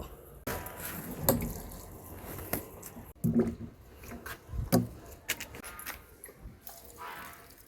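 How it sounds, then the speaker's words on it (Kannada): Water is poured onto fertilized potted plants in a garden, making soft splashing and trickling sounds with a few sharper wet bursts. The sound is fairly faint and close. "ಫರ್ಟಿಲೈಸರ್ ಹಾಕಿದ ನಂತರ ಫರ್ಟಿಲೈಸರ್ ಹಾಕಿದಂತಹ ಗಿಡಗಳ ಎಲ್ಲ ನೀರು ಹಾಕ್ತಾಯಿದ್ದೀನಿ"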